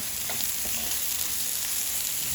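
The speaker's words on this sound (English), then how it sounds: "Now it is time to add in the sausages. Now give this a good mix." Sausages frying in a pan with an onion-and-spice mix for Goan beef croquettes, a dense continuous sizzle close up with faint stirring scrapes and no talk.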